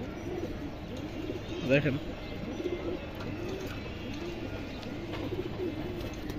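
A pair of silver pigeons coos in a steady run of rounded, rising-and-falling calls, close by, with a brief louder burst early on and someone saying a word over them.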